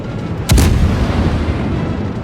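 Naval artillery in the World of Warships video game: one heavy, booming shell impact on a ship, followed by a long rumbling tail over a steady low drone. No voices.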